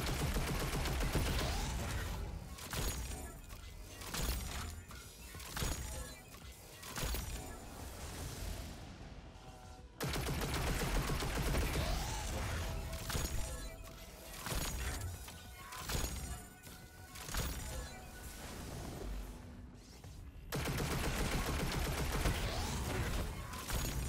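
Heavy weapon fire and impacts in a Destiny 2 Grandmaster Nightfall, repeated loud bursts and sharp cracks in dense clusters over a long stretch of chaotic combat noise.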